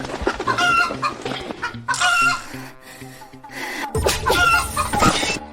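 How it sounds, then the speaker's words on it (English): A rooster clucks and crows in bursts at close range, its calls cutting in and out in an irregular rhythm, with no speech over it. "this rooster will stand in for him at the wedding"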